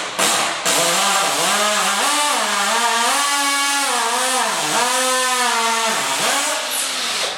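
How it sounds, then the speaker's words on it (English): Power drill boring a hole to mount the end cap of a retractable screen door on a French door, a loud, close whine whose pitch rises and dips repeatedly as the bit loads and frees over several seconds. "is now drilling a hole."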